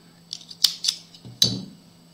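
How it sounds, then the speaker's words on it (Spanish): Scissors snip through wool yarn during a crochet project: a few close, crisp metallic clicks and cuts in quick succession, ending with one sharper final snip in a quiet room. "cortamos la lana"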